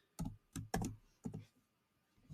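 Keys clack on a computer keyboard in a few quick taps, spaced irregularly and close but soft in a quiet room, with no talking.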